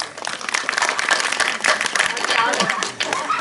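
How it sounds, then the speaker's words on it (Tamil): Audience clapping on request at a Tamil stage event, dense continuous applause from a crowd lasting throughout, with voices mixed in. "கைதட்டுங்க."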